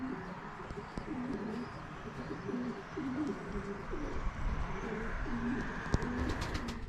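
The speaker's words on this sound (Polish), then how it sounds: "No po chwili siadło jest około 40 gołębi." A flock of about forty young racing pigeons, back from a training flight, coos in overlapping, rolling calls close by, with soft rustles and a sharp knock near the end.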